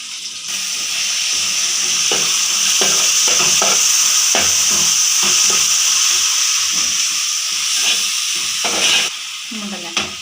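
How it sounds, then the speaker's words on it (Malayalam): Ginger, garlic and green chilli paste hits hot oil in a pan, giving a loud, steady sizzle and hiss that runs throughout, with occasional stirring clatters and a brief dip near the end. "ഇഞ്ചിയും വെളുത്തുള്ളി പച്ചമുളകും പേസ്റ്റും കൂടെ ഇതിലേക്ക് ഇട്ട് കൊടുക്കാം കേട്ടോ."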